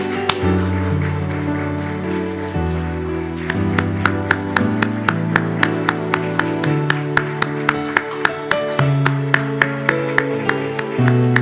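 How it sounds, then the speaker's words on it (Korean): A church congregation at a Sunday service claps in a steady, even rhythm, the claps standing out sharply over music that plays throughout. "우리 박수로 축하하겠습니다."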